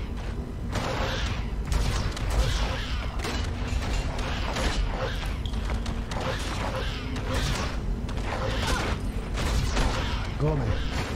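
Magic missile spells fire in a constant barrage in Baldur's Gate: Dark Alliance PC remaster as an elven sorceress fights kobolds, a dense stream of crackling, clattering game effects filling the whole stretch at steady loudness with game music beneath.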